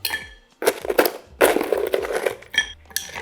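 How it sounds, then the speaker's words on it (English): Ice cubes are dropped into a cocktail stirring glass in a few loud bursts, clattering and clinking against the glass, close up and without voices. "Add some ice to your stirring glass."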